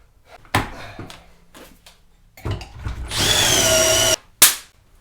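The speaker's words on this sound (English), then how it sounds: "We're going to drill a couple holes to attach it to the top lip, which is structural." A power drill bores pocket holes in a wood workpiece for a woodworking build. Short loud close bursts come first, then a sustained high whining run of about a second and a final quick burst.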